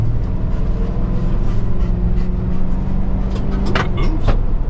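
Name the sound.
Ford Crown Victoria police car engine driving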